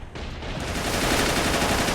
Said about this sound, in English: Just AT guns firing at infantry is the most annoying thing.